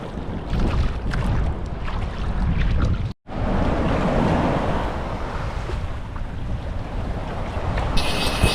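Sea waves slapping against a small kayak in shallow water, a loud continuous wash and rumble with gusty wind noise, broken by a brief dropout midway.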